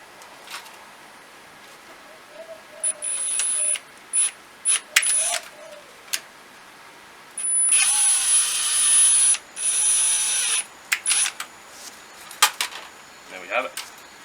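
A drill bores out the metal securing tabs on a Toyota Supra shift boot ring, coming in several loud bursts of high whining grinding between bouts of clinking and scraping, with a voice talking faintly.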